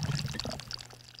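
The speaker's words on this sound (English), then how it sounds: "as the water level reaches the point of the 1-inch where it starts to spill, it vortexes and then it siphons" Water gurgling and pouring down through an aquaponics bell siphon as the grow bed drains, a close, splashy rush of liquid with irregular bubbling spurts that thins out toward the end.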